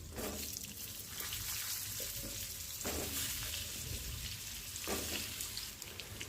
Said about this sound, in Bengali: এবার ওই তেলেতেই আমি আলুগুলোকে দিয়ে দেবো